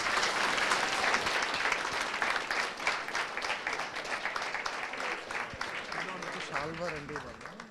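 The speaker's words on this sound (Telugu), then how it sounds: "గట్టిగా చప్పట్లు కొట్టండి" Audience applause at a college event at MITS Madanapalle, a dense sustained burst of many hands clapping that gradually thins and fades, with a voice speaking over the end.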